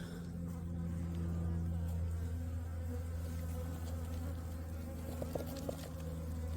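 Many honeybees buzz in a dense, continuous drone around a beehive knocked over by a raccoon. The swarm stays close and steady throughout, with a few faint clicks near the end.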